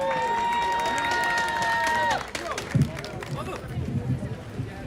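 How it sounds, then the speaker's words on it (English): A crowd applauds and cheers outdoors at a Nepalese American endorsement rally for NYC council candidate Yi (Andy) Chen. A steady wash of clapping fills the first two seconds, then thins into scattered claps and crowd murmur. "Now please once again give a huge round of applause to Andy Chen."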